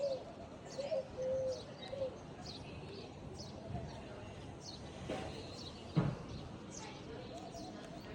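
Soft pigeon coos repeat in the background amid faint chirps and outdoor ambience, fairly distant and quiet.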